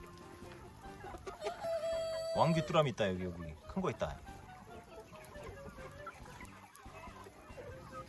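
Free-range native Korean chickens cluck and squawk nearby while pecking at crickets, with a burst of louder calls partway through, while people talk over them.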